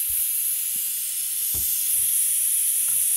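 Piab vacuum equipment gives a steady, fairly loud hiss across the whole stretch, broken by a few faint low thumps and no talking.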